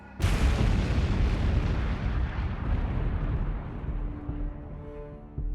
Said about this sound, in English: Then came the explosions.